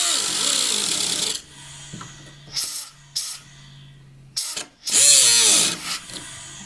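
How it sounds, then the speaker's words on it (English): Power drill boring out spot welds on a rusty car quarter panel during a DIY patch repair, close and loud in several bursts of a few seconds each, separated by quieter pauses with a faint low hum. "I'm going to try to drill these out just a tad bit more if I can"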